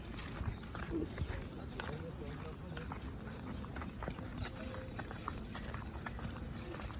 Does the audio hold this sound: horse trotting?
yes